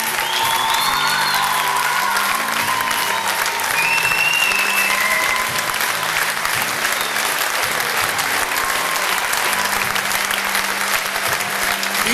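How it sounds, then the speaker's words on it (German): A school audience applauds the stage crew of ninth-grade students, steady dense clapping throughout, loud and full, with faint cheering mixed in. "Applaus für unsere Bühnencrew, die Schüler der 9."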